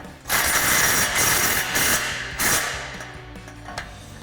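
A 14 mm ratchet wrench tightens a bolt on a 3-inch MBRP exhaust system for a Toyota Tundra, with several close, loud bursts of rapid ratcheting clicks separated by short gaps.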